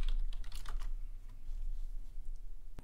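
Keys on a computer keyboard rattle off a quick burst of close presses, then go quiet apart from a lone click at the very end.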